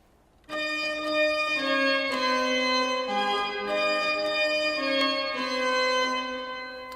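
A bright, steady Renaissance balletto melody played on a sustained organ, moving stepwise through a simple dance tune, loud and continuous with no voices.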